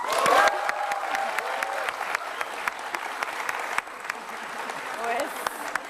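Studio audience applause on an Indonesian evening talk show fills the room as a steady wash of dense clapping, with a voice talking over it near the start.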